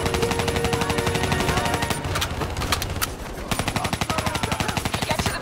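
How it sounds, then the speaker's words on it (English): Rapid automatic gunfire fills the Black Ops 3 campaign battle as cover fire: loud, continuous, dense bursts with brief shifts in intensity and no talking. "Give me some cover fire."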